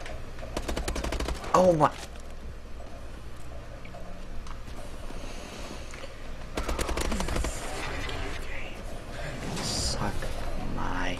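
Rapid gunfire in the shooter game Call of Duty: Advanced Warfare, several bursts of automatic fire in clusters near the start and middle, with a player briefly speaking over it.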